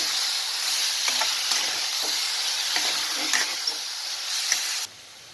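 Eggplant masala being stirred in a frying pan, a steady hissing sizzle with scattered scraping clicks from the stirring, close and moderately loud, cutting off abruptly near the end, with no voices.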